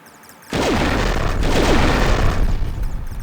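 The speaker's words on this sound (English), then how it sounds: "Oh, it's shooting him." An alien weapon fires in a video game, starting abruptly with a loud booming blast that sustains as a dense rumbling barrage, close and heavy, with no talk.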